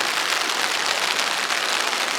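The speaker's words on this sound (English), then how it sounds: "And the rain is coming down." Steady, dense rain falls on the Kumano Kodo near Shingu, Japan, in a continuous hiss, pattering evenly on surfaces nearby with no voices.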